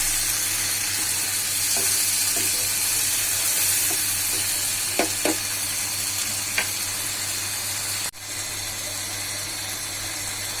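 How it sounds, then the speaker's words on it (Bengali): Shrimp sizzle steadily in a hot pan with a little water added, a constant frying hiss broken by a few light clinks of a stirring utensil. "অল্প কিছু পানি দিয়ে আমি চিংড়ি মাছটাকে কষিয়ে নিচ্ছি"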